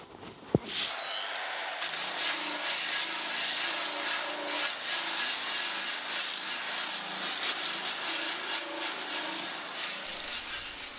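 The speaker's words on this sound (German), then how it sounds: "Rest kann man schleifen." Steady, continuous abrasive rubbing of sanding body filler on the bodywork of an old VW Beetle, close and fairly loud with a fine gritty texture, starting after a short knock and lasting about nine seconds.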